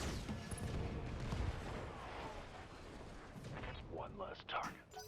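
Weapons fire from the mech combat video game Battletech booms and rumbles in heavy bursts, with a voice talking over much of it.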